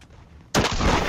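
A sudden burst of gunfire in the game Da Hood Mobile cuts in after a quiet moment, loud and close, with rapid shots running together.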